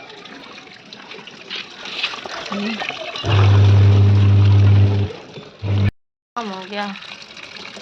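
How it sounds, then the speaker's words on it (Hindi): Water running to fill a washing machine for laundry at home, a constant rushing trickle with a loud, steady humming surge partway through and someone speaking around it. "मशीन तो लगा दियो, पानी भर लेती हूँ पहले।"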